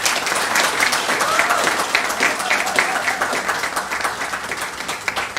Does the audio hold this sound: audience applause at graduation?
yes